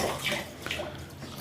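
Tap water splashing steadily into a bowl of rinsed sprouts, a close, continuous gushing wash with no voices.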